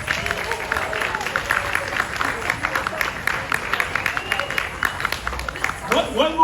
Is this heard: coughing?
no